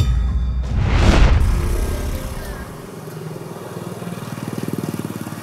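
A big trail motorcycle roars loudly past close by within the first second or so, then fades as another engine settles into a rhythmic, pulsing idle putter toward the end.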